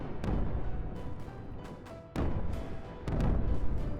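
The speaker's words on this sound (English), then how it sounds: "Sorry, mortars." Mortars fire in a video game, giving several heavy booming launches spaced about a second apart over a constant rumbling battle background.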